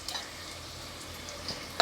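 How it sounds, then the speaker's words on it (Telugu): Dried red chilies fry in hot oil for a tempering, giving a quiet, steady sizzle with soft stirring and a sharper clink near the end. "ఇప్పుడు ఎండుమిరపకాయలు కాలనీ కదా"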